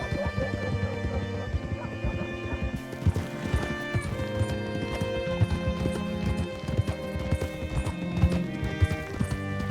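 Rhythmic clip-clop of horse hooves in the video game Red Dead Redemption 2, over a busy backdrop of music and ambience, steady and fairly close.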